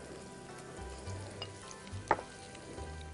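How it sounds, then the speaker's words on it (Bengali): Chopped onions frying in hot oil for chicken haleem, a low, quiet sizzle with a sharp clink or scrape near the middle, close by and without talk. "দর্শক আমরা এখানে আরো পেঁয়াজ কুচি দিয়ে দিলাম"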